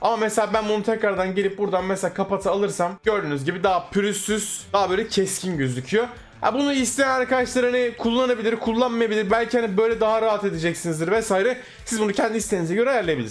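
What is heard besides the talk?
No distinct noise like a dog, phone or traffic.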